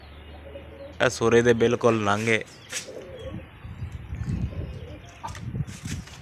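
Pigeons on a rooftop in 46-degree heat coo and call nearby, with wing and foot rustles, while someone talks over the birds.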